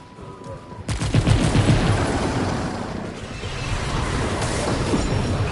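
Rapid pistol fire from the Remnant 2 video game, loud and continuous bursts of shots starting abruptly after a brief quiet lead-in, with booming low-end impacts layered throughout.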